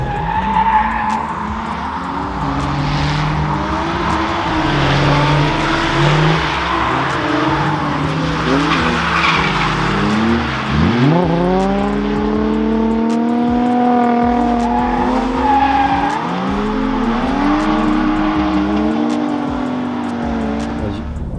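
A BMW drifts at about 160 km/h, its engine revving and surging while the tires skid and squeal continuously, loud and close, with pitch sweeping up and down as the car slides through the run.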